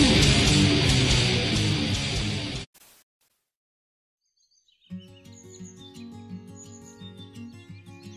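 A small Tledekan forest bird chirps and sings in loud bursts, followed by a silent gap and then a clearer series of repeated tonal notes and trills.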